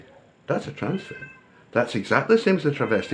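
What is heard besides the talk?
cat meowing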